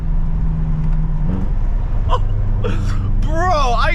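BMW M6 with turbos, engine and exhaust loud and close from inside the car through a downshift, a low droning rumble that shifts pitch, with excited voices and gasps over it toward the end.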